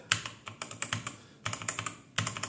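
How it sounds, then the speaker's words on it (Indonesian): Rapid clacking keystrokes on a Robot Workmate IV mechanical keyboard, typed in short bursts of clustered key presses with a brief pause midway, close and fairly quiet with no voices. "Jadi saat saya ngetik yang saya rasain tuh gini. Ini persis kayak mesin tik suaranya."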